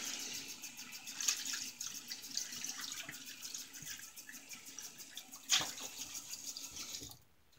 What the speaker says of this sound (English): Grab the proto lather here. And rinse it out clean.